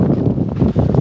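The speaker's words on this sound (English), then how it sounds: "There's your gust of wind that's come." A gust of wind on an outdoor bricklaying site buffets the microphone, a loud low rumbling roar lasting about a second with no talk.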